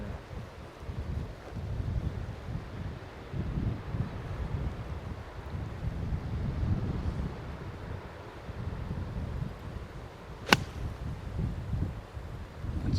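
Wind sweeping across the Barnbougle Dunes links golf course, a steady low rumbling buffet on the microphone that rises and falls throughout, with one brief sharp click near the end and no talk.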